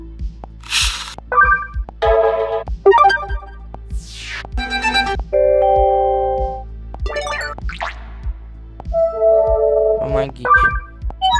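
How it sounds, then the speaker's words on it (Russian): Android notification tones play back on a Pico Neo 3 headset as a string of short electronic chimes and jingles, each different, with brief pauses between them. A steady clicking ticks underneath. "Да, звук уведомления."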